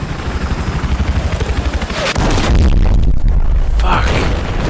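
Battlefield 4 combat: a helicopter goes down among rattling gunfire, then a loud, sustained boom and explosive rumble takes over, close and heavy.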